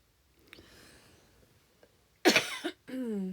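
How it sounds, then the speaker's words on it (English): A single sharp, loud cough bursts out close by after quiet breathing, followed by a brief voiced sound. "Pardon my cough."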